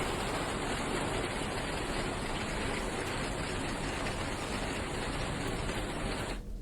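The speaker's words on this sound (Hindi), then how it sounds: "तेज बारिश जारी है और ऐसे में कई सड़कें पूरी तरह से पानी में डूबी हुई है।" Heavy monsoon rain pours down on waterlogged city streets in Raipur, a steady, dense hiss of falling water with no break, loud and close throughout.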